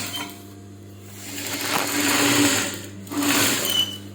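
A tailoring sewing machine runs medium-length stitches through fabric in two close, whirring bursts separated by a brief pause, loud over a low background hum.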